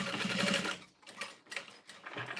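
A sewing machine stitching a box stitch on a dress runs in a quick whirring burst, then stops into short, intermittent mechanical taps and stitches, close and moderately quiet with no talking.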